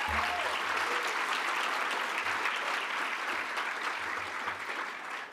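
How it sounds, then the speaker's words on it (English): Sustained audience applause at a women's awards gala during Oktoberfest, a dense, steady wash of many hands clapping, moderately loud and tapering slightly at the close. "Let's give them a round of applause."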